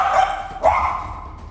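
A small puppy on a set gives a short bark or yip over steady background noise, brief and fairly close.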